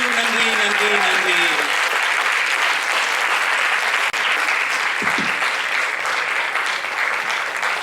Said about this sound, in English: Can we have a big round of applause for Mr. Wilbur Sargunaraj, our simple superstar?